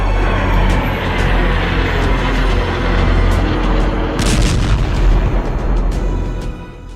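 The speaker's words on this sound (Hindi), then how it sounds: "अमेरिकी सेना ने ईरान समर्थित कताइब हिजबुल्लाह पर भीषण हवाई हमले किए थे" Loud, dense rumbling of US air strikes on Kataib Hezbollah positions, with heavy low booms and a continuous roar broken by sharp cracking bursts, fading slightly at the end.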